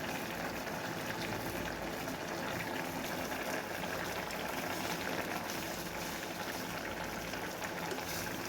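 A pot of paarai fish curry boils steadily on the stove, giving a constant soft bubbling and hissing simmer with no voices over it.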